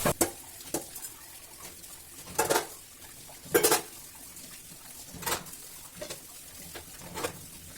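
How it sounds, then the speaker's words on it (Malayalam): Sharp clinks and clatters of dishes, pots and cutlery being washed in a home kitchen come in scattered bursts over quiet running water, close and clear with no talk. "ഇനിയിപ്പൊ എനക്ക് പാത്രം കഴുകാനുണ്ട്"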